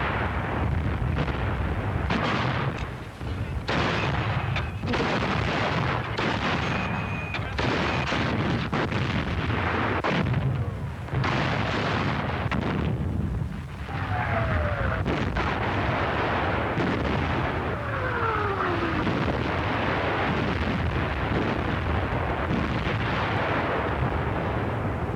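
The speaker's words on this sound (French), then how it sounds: "Schlacht auf dem Höhepunkt. Immer neue Panzer greifen ein." Battlefield roar of tanks and artillery fire, continuous heavy booms and blasts layered over a dense rumbling din, loud and sustained with occasional sharper bursts and brief lulls.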